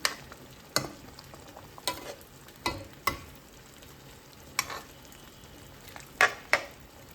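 Chicken curry being stirred in a pan, with intermittent scraping clacks of a spoon against the pan over a soft frying sizzle, about eight irregular strokes, fairly close and without talking.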